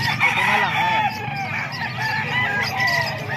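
Roosters crow repeatedly at a busy chicken market in Calumpit, layered with clucking fowl and a steady crowd murmur, the calls close and fairly loud with overlapping voices in the background.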